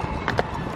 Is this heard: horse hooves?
yes